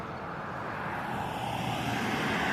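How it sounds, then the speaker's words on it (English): A helicopter flying low over a building makes a continuous, close engine and rotor roar that slowly gets louder across the clip, with no one talking. "That's a helicopter."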